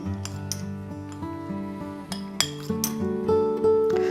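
A fork blends flour, cinnamon and spices in a bowl, making quick repeated metallic taps and clinks against the dish, close and clear, with a faint tonal hum underneath.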